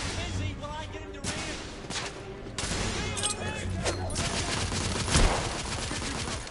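Gunfire in the PS4 steampunk shooter The Order: 1886 as enemies are shot while aiming down sights. Several sharp, irregular bursts of shots ring out against a constant noisy backdrop, with a voice talking now and then.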